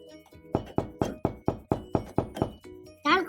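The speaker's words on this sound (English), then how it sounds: "Hammer." About ten evenly spaced hammer knocks land sharply one after another, clear and solid, followed by a brief voice-like sound at the end.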